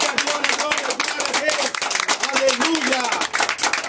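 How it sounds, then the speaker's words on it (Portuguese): A church congregation claps during a lively worship service, the rapid clapping mixing with raised voices and exclamations and carrying on throughout at a fairly loud, busy level. "Dá uma salva de palmas!"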